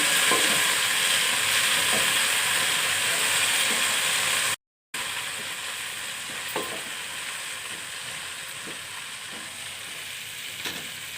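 Mint and coriander leaves get stirred into a rice mixture frying in a pan for veg bagara rice, with a steady loud sizzle and occasional scrapes of a spoon. A brief dropout interrupts it midway, then the quieter sizzling continues alone.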